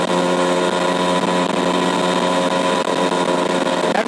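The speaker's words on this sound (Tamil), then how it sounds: "ஸோ வாய்ஸ் கேட்குதா இல்லையா தெரியல, இதுதான் டூ ஸ்ட்ரோக்கு" Suzuki Max100 two-stroke motorcycle engine running at a steady, buzzing high-pitched drone, loud and close throughout with no talking.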